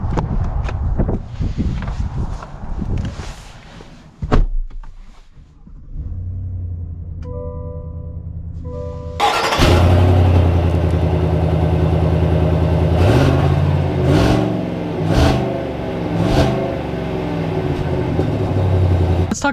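A 2021 Chevy Suburban Z71 starts with a brief crank into a mid-pitched idle, then revs and pulls away with a loud, rising engine note. Rustling and handling noises come before the start.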